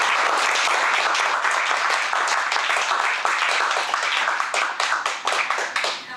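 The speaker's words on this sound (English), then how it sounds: "this is called clapping." Guests at a Toastmasters evening meeting clap together in a loud, close burst of many hands that thins into scattered individual claps toward the end.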